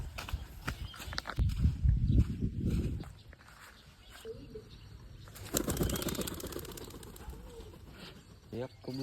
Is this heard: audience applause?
no